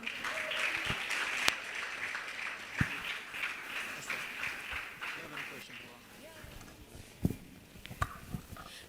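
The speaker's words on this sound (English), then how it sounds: "Please, a round of applause for her." An audience claps in a scattered, moderate round of applause, with a few sharper individual claps standing out near the end.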